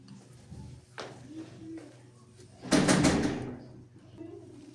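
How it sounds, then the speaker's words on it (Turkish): Someone knocks at the front door of a home while dinner is being prepared, a short cluster of loud raps standing out midway over quiet household background noise. "Bu arada kapımız çalıyor."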